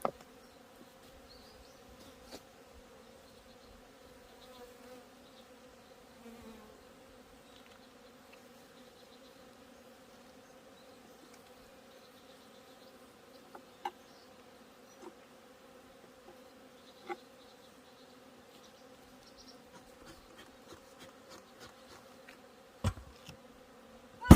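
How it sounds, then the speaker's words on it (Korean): A swarm of honeybees buzzes steadily and fairly faint throughout during hive handling, with scattered light clicks and knocks over the constant drone and no talking. "빨리 덮어야 한가득 되어 있던 꿀벌이 더 나오지 않을 것입니다"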